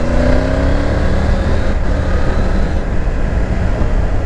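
A Triumph Tiger 900 GT Pro motorcycle engine in 35 kW A2 trim roars loud and steady up close, with a quick quickshifter gear change briefly dipping the drone.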